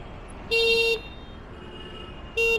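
An electric Load 60 vehicle's horn sounds two loud, close toots on a road in Abidjan: a longer blast, then a shorter one after a pause, over steady background traffic hum.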